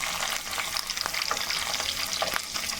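Onion and green chillies fry in chicken masala in a pan, with a dense, close crackle and sizzle that holds steady throughout and carries occasional sharper pops and stirring scrapes.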